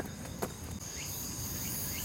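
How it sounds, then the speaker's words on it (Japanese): Cicadas singing in a park on Ebayama hill in Hiroshima on a summer morning, a faint, steady high buzzing drone that continues throughout, quiet and distant, with no talking. "セミが鳴いてるけど"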